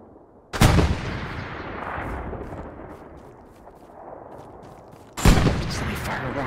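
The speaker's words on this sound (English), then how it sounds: "Oh my god, no one has stopped firing." Heavy gunfire and artillery blasts in the World War II shooter Hell Let Loose: two loud, sharp explosive booms several seconds apart, with a sustained rumbling barrage of battlefield fire between them.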